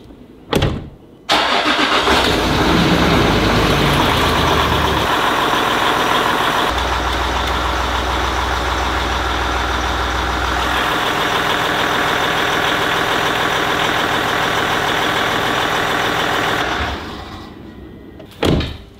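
A vehicle engine cranks and fires up, then idles steadily for about fifteen seconds before shutting off. A sharp clunk like a door is heard at each end, and no one speaks.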